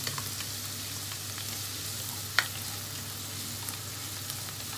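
Garlic and onion sizzle steadily in hot oil in a pan for sopas with corned beef, a constant close hiss with a single sharp clink midway and no talking.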